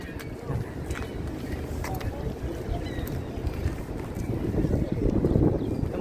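Wind buffets the microphone in gusts at a bus stop, growing stronger toward the end, with a voice speaking over the blustery rush.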